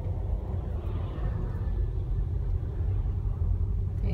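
A car idling in stopped traffic at a red light on a tree-lined street in Japan, a steady low engine rumble heard from inside the cabin, continuous and moderately loud with no talking.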